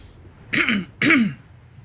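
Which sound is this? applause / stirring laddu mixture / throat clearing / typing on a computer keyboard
throat clearing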